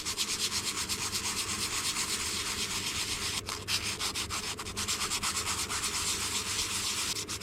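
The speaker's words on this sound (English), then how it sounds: "So I used the sandpaper now" Sandpaper rubs back and forth in a steady, rapid scratching rhythm while a battery terminal connection is cleaned by hand, close and continuous with a brief pause midway.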